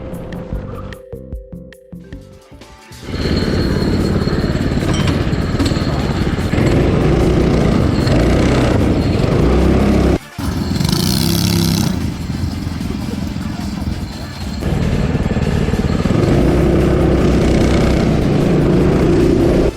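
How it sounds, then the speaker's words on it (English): A prokart racing kart engine out on a circuit, roaring loud and steady at close range after a brief quieter start, with a short dip around midway. "the kart's warmed up, the track's warmed up, and well, we've got Ryan on the track"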